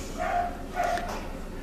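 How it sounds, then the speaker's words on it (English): Dogs barking on the other side of a wall, two muffled woofs about half a second apart, moderately near but dulled by the barrier, with no talk over them. "Are you hearing those dogs? They're over on the other side of the wall."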